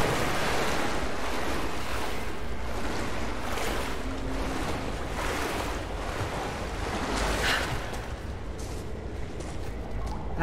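Water rushes and splashes in the video game Rise of the Tomb Raider, a loud, steady surf-like wash with wind-like noise throughout, with no speech over it.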